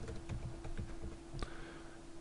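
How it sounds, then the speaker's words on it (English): Faint, sparse keystrokes on a computer keyboard, a handful of soft clicks spread across a couple of seconds over a low steady room hum, with no one speaking. "I have to type this correctly."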